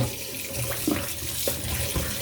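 Tap water running into a kitchen sink while okra is rinsed, a steady close splashing stream with a few small knocks and clinks of handling.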